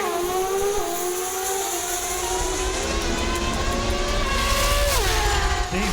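A drag racing car's engine roars at the NHRA Sonoma Nationals in 2022, loud and sustained with rising and falling pitch sweeps as the throttle changes, carrying on without pause and with no talk over it.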